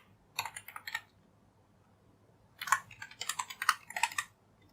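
Two bursts of keystrokes on a computer keyboard while Python code is typed, a short quick run followed by a pause and then a longer, denser flurry of clicks, close and clear with no talking.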